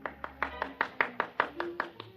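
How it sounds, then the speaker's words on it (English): Sparse, scattered hand claps from a small gallery greeting a straight, long golf drive in a 1950s radio drama, about ten uneven claps over two seconds, fairly close and thin with no talk. "there was a smattering of applause like a matinee just before they closed the show"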